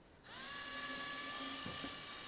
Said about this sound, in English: drill a 1/4-inch hole, use a 1/4-20 tap, and put a bolt in it